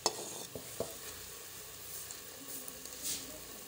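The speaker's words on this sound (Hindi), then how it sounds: "इसको फिर भुनेंगे हम लोग तेल डाल के।" Boiled black chickpeas frying in oil in a pan, giving a soft continuous sizzle with light scraping stirs and a few small clinks, close and faint.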